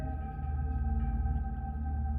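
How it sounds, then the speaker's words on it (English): Bell-like tones ringing through the woods at a campsite, a sustained, steady resonant hum with layered tonal overtones, fairly faint and unbroken over a low rumble. "That's the sound of the bell."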